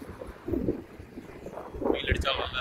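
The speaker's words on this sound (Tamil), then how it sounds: "வெயில் அடித்தாலும் நல்லா காற்று அடிக்குது." Strong wind buffets the microphone outdoors where a group of Honda CBR 250R motorcycles is parked, rumbling steadily with gusts swelling and fading over a few seconds.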